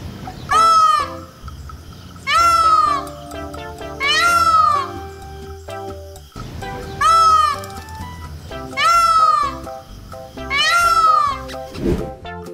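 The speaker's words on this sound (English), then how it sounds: "Peafowl." A peafowl gives six loud, wailing, meow-like calls in a steady rhythm, with short pauses between them and no talk.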